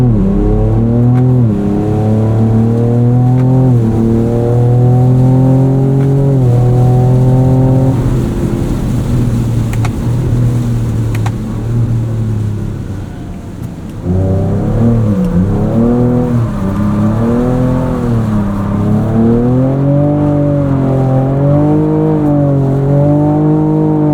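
2024 Ford Ranger Raptor pickup in sport mode with Baja exhaust drifting on a race track: a loud, close engine revs in rising and falling sweeps, drops to a rough lull midway, then climbs again through repeated surges.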